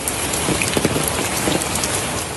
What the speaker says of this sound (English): sudden downpours sent stormwater drainage into overdrive